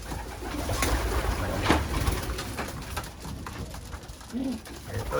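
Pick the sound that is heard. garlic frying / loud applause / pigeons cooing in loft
pigeons cooing in loft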